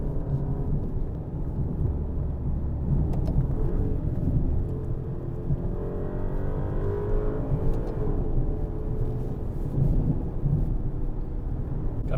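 A 2021 Maserati Ghibli Trofeo, a 580 hp Ferrari-powered sedan on 21-inch low-profile tires, drives along a road with a steady deep engine drone and tire rumble heard from inside the cabin and no talk.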